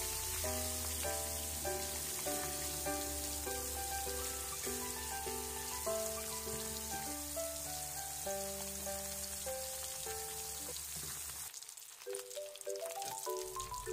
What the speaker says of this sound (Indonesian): Goreng ikan tongkol, goreng hingga matang.